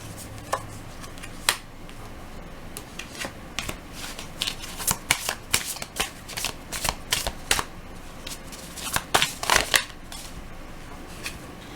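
Tarot cards shuffled by hand in a quiet room, giving a steady run of crisp riffling flicks and soft slaps that bunch into a denser flurry near the end, with no talking.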